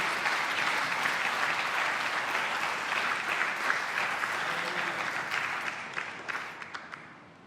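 A church congregation applauding, a dense steady clapping that holds for several seconds, then thins out and fades at the end, heard from within the room with no voices over it.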